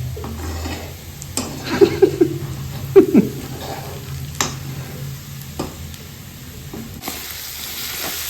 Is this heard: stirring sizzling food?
yes